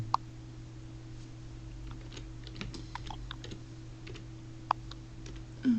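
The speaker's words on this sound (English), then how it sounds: "Typing." Typing on a computer keyboard: sparse, faint key clicks scattered over a steady low electrical hum, with a couple of sharper taps standing out.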